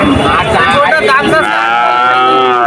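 A Jersey calf at a cattle market lets out a loud, drawn-out moo close by, its call wavering before trailing off.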